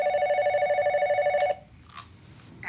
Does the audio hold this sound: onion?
no